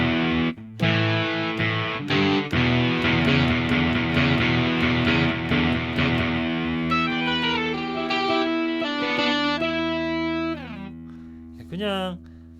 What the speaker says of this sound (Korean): 자, 요거는 일렉기타 소리인데